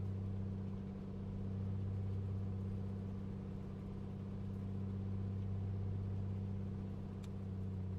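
The engine of a Piper PA-24-250 Comanche in a flight simulator game is run up to 2,000 RPM, making a steady loud droning hum with a low harmonic buzz that holds even throughout.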